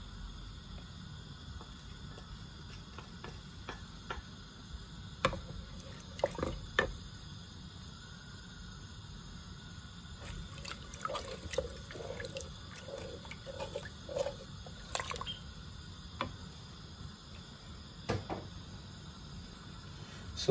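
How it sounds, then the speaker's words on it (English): Tarka daal with onion, turmeric, curry powder, coriander powder, fresh bay leaves and salt boils in a pot, with scattered bubbling pops and wet blips over a low, steady simmer. "So we are going to allow this to cook and boil for about half an hour."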